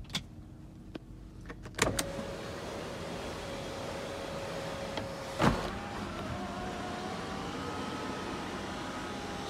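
A 2011 Nissan Murano's power window motors whir in turn inside the cabin. Each run is a steady electric hum set off by switch clicks and a thud as a window stops, over a quiet background.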